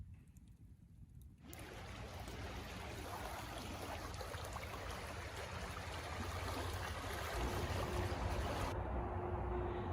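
A rushing river flows steadily beside a highway, its broadband water noise loud and continuous for most of the stretch, with a quieter start before the flow swells in.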